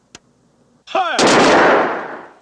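A single honor guard rifle volley cracks out loud and close, a sharp burst that rolls into a long, fading echo after a faint tap and a brief rising swoosh.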